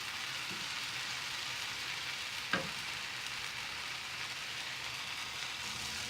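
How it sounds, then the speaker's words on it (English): Tomatoes and coconut cooking together in a pan for Chettinad pepper chicken gravy, a soft, even sizzle with a single light tap partway through. "Now we can add the coconut. Mix them well and let it cook for another 3 minutes."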